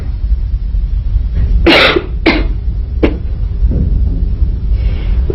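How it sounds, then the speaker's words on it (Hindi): Someone gives a few sharp, explosive coughs in quick succession, close by, followed by quieter throat sounds. "ये खांसी?"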